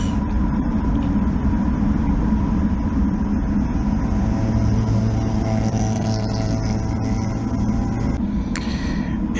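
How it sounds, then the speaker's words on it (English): A bridgeported rotary-engine car, an RX-3 or RX-4, drives past, its engine drone swelling mid-clip and fading, under constant wind and road noise. "the sound of that rotary engine, I believe that's an RX-3 or an RX-4, sounds like it's Bridgeported going by"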